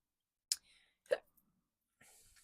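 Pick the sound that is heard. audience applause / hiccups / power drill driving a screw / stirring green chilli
hiccups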